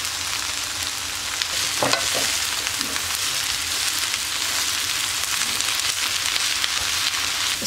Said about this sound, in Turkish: Bunları da soteleyeceğim.